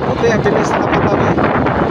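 Gusty wind buffets the microphone in a loud, continuous rumble and roar.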